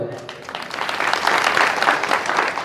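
Audience at a kirtan in Gargoti breaks into applause, a dense, steady clapping that swells and holds for a couple of seconds, fairly close and loud.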